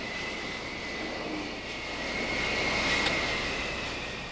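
Fairchild Republic A-10 Thunderbolt engine droning steadily with a high whine, a continuous roar swelling slightly as the aircraft passes.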